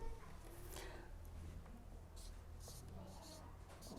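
Rules of debit and credit being written out by hand: soft, scratchy strokes arrive in short bursts over a steady low background hum, close and fairly quiet.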